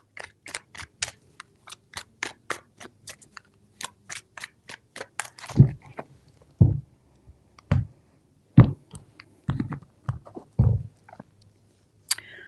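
Rapid crisp flicks of tarot cards being shuffled, then a series of slower, heavier taps and slaps, close and dry with no talking.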